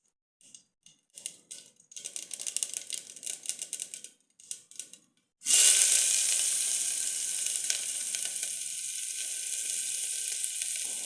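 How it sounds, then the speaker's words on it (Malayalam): Mustard seeds crackle and pop in hot oil inside a pressure cooker, followed by the sudden loud, steady sizzle of onions dropped in to sauté. Close and continuous, with no talking. "കുക്കർ എടുത്ത് നമുക്ക് അടുപ്പിൽ വെച്ച് എണ്ണ ഒഴിച്ച് കടുക് പൊട്ടിച്ച് നമുക്ക് ഉള്ളി വഴറ്റാം"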